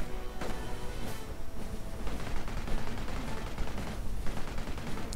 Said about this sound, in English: Vickers machine gun catching several Panzer Grenadiers out in the open from Winterleaves